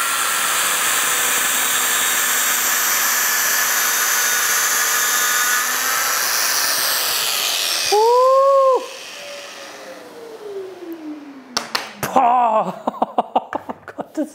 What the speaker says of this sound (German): ich probiere es mal wie bei der Dominofräse, sodass ich mit der Maschine sozusagen das Werkstück festspanne